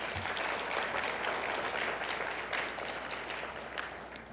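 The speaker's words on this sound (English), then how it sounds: "could everyone join me in a round of applause for them?" An audience at a law school scholarship donor and recipient reception breaks into sustained applause, a dense wash of clapping that holds steady before tapering slightly.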